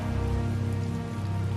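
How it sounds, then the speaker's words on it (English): Steady, dense rain falls in the Tales of Vesperia video game, a continuous wash of patter with no breaks and no voices. "It's raining after all."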